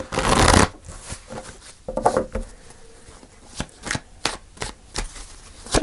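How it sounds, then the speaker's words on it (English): Tarot cards being shuffled by hand: a loud riffling burst at the start, then a run of softer, sharp flicks and slaps of cards at irregular intervals, close by with no talking. "Let me just shuffle."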